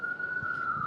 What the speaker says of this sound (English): as I hear sirens blazing in the background